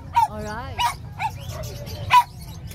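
Dogs bark and yip in short bursts at a pet market, sharp and fairly close, with people talking throughout underneath and between the barks.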